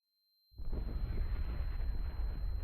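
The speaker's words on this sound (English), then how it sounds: "That really did not have that big of an explosion, I thought." A nuclear explosion in the Minecraft video game, starting abruptly after a moment of near silence as a heavy, low, rumbling roar that stays loud and steady to the end.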